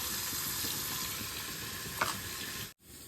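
Spices including turmeric and red chili, with green chilies, fry in a pan for arbi sabzi, making a dense, steady sizzle with small stirring bumps before the sound cuts off abruptly near the end.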